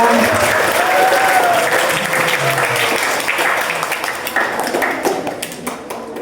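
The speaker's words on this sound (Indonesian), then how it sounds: "Tepuk tangan untuk Ibu Pengawas." Audience applause for a school supervisor at a talent exhibition at SMP Baitul Ulum Boarding School in Cianjur: dense, loud clapping from a crowd that holds steady and then slowly thins over about six seconds, with a few voices mixed in.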